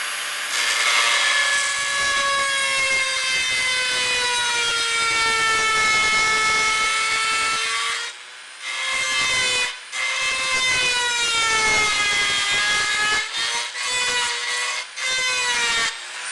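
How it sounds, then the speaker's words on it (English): A Dremel rotary tool cuts brass trim off a car dash insert, its loud, steady high-pitched whine holding for several seconds, dropping briefly, then resuming in bursts with slight shifts in pitch. "the Dremel"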